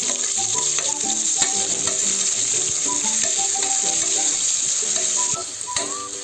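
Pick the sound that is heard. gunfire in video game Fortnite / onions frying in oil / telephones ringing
onions frying in oil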